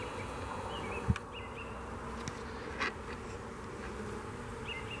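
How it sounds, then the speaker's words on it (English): Bees buzz outdoors in a steady, faint drone with a few louder buzzes passing close by, continuous throughout and with no talking. "I love these bees."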